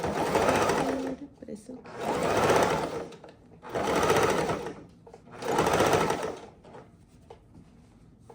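A sewing machine stitches a pink self-care robe in four evenly spaced bursts of rapid whirring, close and fairly loud, with brief quiet gaps between them and a voice speaking briefly.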